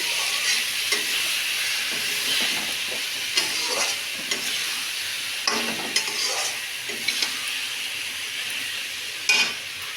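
Poppy seed, mustard and chili paste fry in a pan for a Bengali hilsa fish curry, giving a steady close sizzle broken by scattered scraping and clicking stirs, with no talking.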